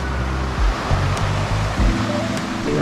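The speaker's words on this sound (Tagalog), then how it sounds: "kung maririnig mo, sobrang ganda ng tunog ng dagat" Sea waves roll onto the shore at dawn at Siruma, Camarines Sur, a close, continuous wash of surf with low rumbling surges and no voices.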